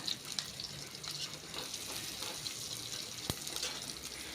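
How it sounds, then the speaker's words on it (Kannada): Lady's finger (okra) and green gram fry in a pan with a steady close sizzle and a few light scraping knocks, without pause. "ಒಂದು ಸ್ವಲ್ಪ ಫ್ರೈ ಮಾಡ್ಕೊಳ್ಳೋಣ"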